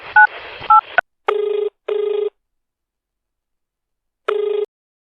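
Phone tones on an outgoing call: a couple of short keypad beeps, then three steady buzzing ring tones with gaps between them, clean and close with silence around them.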